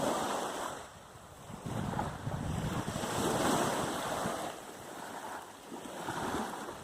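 Sea waves wash onto Khao Tao beach in a steady, rolling roar, swelling and easing in broad surges, with wind buffeting the microphone throughout.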